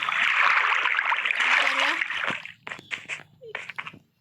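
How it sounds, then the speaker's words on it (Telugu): A waterfall in a Minecraft village rushes and splashes loudly for about two seconds, then fades as a voice starts talking over a quieter background. "ఇక్కడ వాటర్ ఫాల్."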